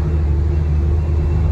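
A heavily loaded truck's engine strains under load, a loud, close, steady low rumble that continues unbroken.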